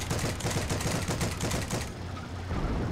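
Dense rapid gunfire from the World War II shooter game Heroes & Generals crackles continuously, loud and close, in overlapping bursts.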